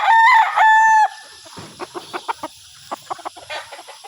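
A sweater-cross gamefowl rooster crows once, loud and close, followed by a run of soft clucks and short calls from backyard fowl.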